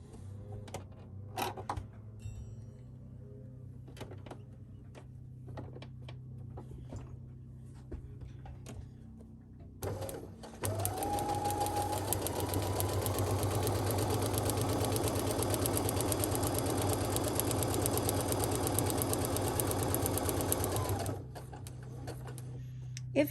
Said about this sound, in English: I'm going to sew on the line between A1 and A2